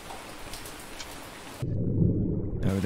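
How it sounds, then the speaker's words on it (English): Rain in the Ultimate Fishing Simulator 2 video game at a river venue in Slovakia: a faint texture at first, then a heavy, steady downpour rumbles in close for the last second and a half. "Well, it's definitely raining."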